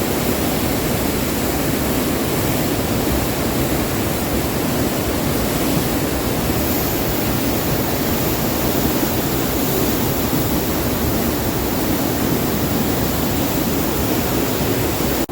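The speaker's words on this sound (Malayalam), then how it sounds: "നമ്മുടെ മുണ്ടക്കൈ പുഴയിൽ നല്ല സൗണ്ട് ഉണ്ട്" Roaring river at Mundakkai in Wayanad, a dense, loud, unbroken rush of water that fills the whole clip with a deep, earth-shaking rumble and no voices.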